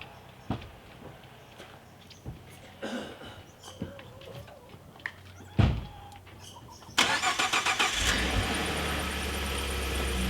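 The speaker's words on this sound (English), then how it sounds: "I'm going to move my truck." A pickup truck at a remote Alaska cabin cranks and its engine catches, rising into a steady loud rumble as it starts to move off, preceded by scattered knocks and door sounds, close by with no talk.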